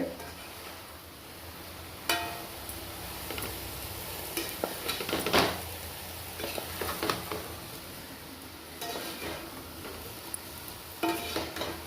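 Red rice noodles and mixed vegetables stir-fried in a pan, a steady sizzle broken by repeated scraping and clattering stirs of the spatula, close and fairly loud, with no one talking.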